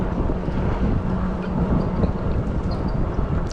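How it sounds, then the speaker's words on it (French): Steady wind rushing through a forest along a woodland path, a dense continuous roar with gusty microphone buffeting, loud and close throughout, with no voices. "Et là, on est dans la forêt, donc le vent,"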